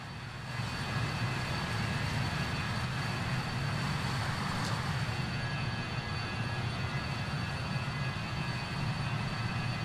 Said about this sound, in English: Turn those engine sounds down for me.